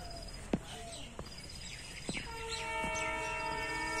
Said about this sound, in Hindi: ट्रेन आ गई, लो अब आई है ट्रेन।